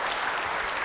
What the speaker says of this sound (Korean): 우리 영광의 박수